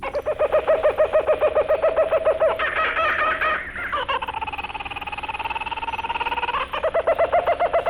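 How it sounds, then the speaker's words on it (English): A laughing kookaburra gives a loud, rapid series of raucous, cackling calls rising and falling in bursts, like manic laughter, continuing throughout with no talking. "It's a bird, although not one you'd find along the banks of the Amazon. It belongs to the laughing kookaburra"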